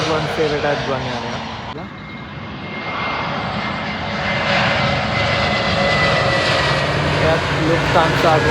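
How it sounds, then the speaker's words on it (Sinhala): Lufthansa airliner landing at London Heathrow Airport, its engines roaring steadily throughout and swelling louder as it passes close by, with a broad jet rumble and faint voices in the background. "එයත් ලුෆ්තාන්සා ගුවන් සේවයට ගුවන් යානයක්."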